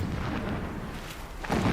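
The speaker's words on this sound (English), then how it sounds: "Explosions in the distance." Distant explosions in the video game Horizon Zero Dawn roll as a continuous low rumble, with a heavier boom swelling near the end and no talking.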